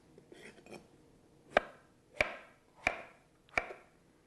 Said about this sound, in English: We can just go ahead and slice into pieces.